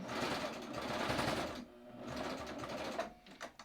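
A serger overlocks a lining fabric edge, fast mechanical stitching that runs in a burst, pauses briefly, then starts again in shorter spurts, fairly quiet and close, with no talking.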